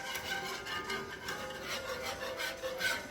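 A whisk scrapes steadily through brown gravy in a pan, giving quick, even, rhythmic rasping strokes that continue close by without a break.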